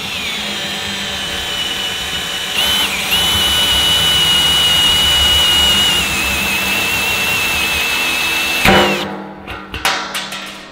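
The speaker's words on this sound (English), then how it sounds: "And make sure you drill the bottom hole." A hole saw cuts through a steel drum for a smoker build, making a loud, steady high-pitched whine for about eight seconds before it stops and a few clanks follow.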